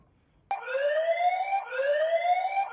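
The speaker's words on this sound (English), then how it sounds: "You've got an alarm that'll go for 15 seconds." A Noahcam light bulb security camera sounds its alarm: a loud electronic wail that starts abruptly and rises in pitch, then repeats in a second rising cycle.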